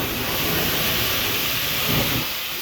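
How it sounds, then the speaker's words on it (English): Water sprayed onto a hot wood stove in a sauna bursts into a loud, steady hiss of steam that fills the whole short stretch with a close, rushing noise. "All you do is you spray the wood stove"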